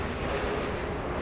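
An Asiana airliner passes by at Los Angeles airport, its engines a steady, broad rumbling roar, moderately loud and heard alone for a brief moment.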